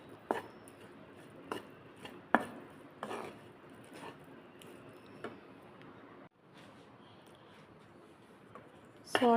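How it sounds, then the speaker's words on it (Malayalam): Drained pasta being stirred into sautéed vegetables in a pan, quiet intermittent scrapes, soft squelches and sharp utensil clicks against the pan, with short pauses between strokes. "സോട്ടഡ് വെജിറ്റബിൾസിലോട്ടേക്ക് നമ്മുടെ ഊറ്റി വെച്ചിരിക്കുന്ന പാസ്ത ഇട്ട് ഇളക്കുന്നു."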